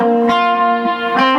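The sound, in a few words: guitar through digital delay and plate reverb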